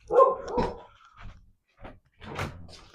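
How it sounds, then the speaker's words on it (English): A female pet dog barks to be let back indoors, a few loud close barks in a burst, then a pause and more barking, with thuds like a door. "My dog's barking because she wants to be let in."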